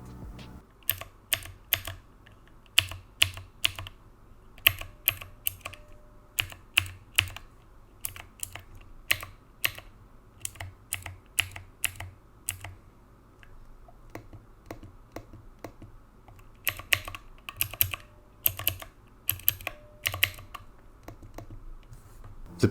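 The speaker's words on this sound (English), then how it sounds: "The switches are blue switches" Blue mechanical key switches on a Divoom Ditoo retro pixel-art Bluetooth speaker click sharply and irregularly, close and fairly quiet, in clusters of rapid presses separated by short pauses.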